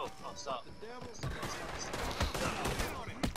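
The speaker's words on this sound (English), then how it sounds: "The sheriff's just shooting us as we're trying to survive." A sheriff firing on players in Red Dead Redemption 2: a rapid, dense burst of gunshots that grows louder partway through, mixed with voices talking and exclaiming.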